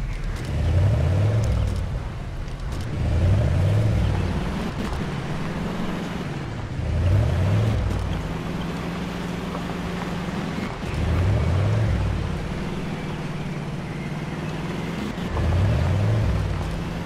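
Car driving forward in the video game Jurassic Dream, a steady low engine drone with a rising and falling whine that swells every couple of seconds, loud and continuous with no talk.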